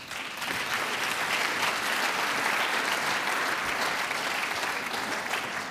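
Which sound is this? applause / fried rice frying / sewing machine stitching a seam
applause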